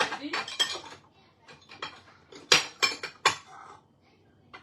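Small metal spoons clink and rattle while being picked out for making a chocolate tart, a series of sharp bright chinks in short bursts, close and fairly loud, with quiet gaps between.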